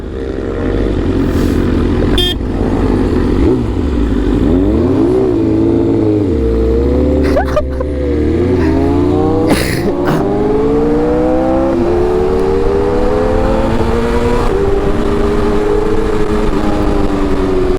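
A Raider 150 motorcycle racing alongside a big bike on the road, loud and close. Engines rev up and drop back repeatedly through gear changes under constant wind rush, with brief sharp bursts along the way.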